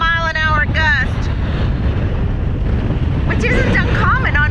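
Strong wind roars and buffets the microphone nonstop on Whidbey Island, gusting to about 55 mph, loud and close, while people talk briefly over the gusts.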